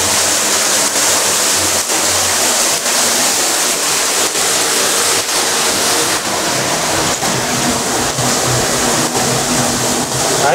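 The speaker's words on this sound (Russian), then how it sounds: "Вот этот звук воды, когда туда залезаешь, он превращается даже не в гул, а он превращается в звук, как будто двигатель реактивного самолета." Water roaring through an underground sewage collector outlet that empties into the sea at an abandoned site in Montenegro; a loud, steady, dense rush that fills the space without a break and echoes like a jet engine.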